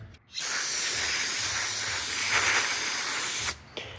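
Carburetor cleaner sprays in one steady, loud hiss for about three seconds into the bowl of a Troy-Bilt Storm carburetor, stopping abruptly with a brief clatter afterward.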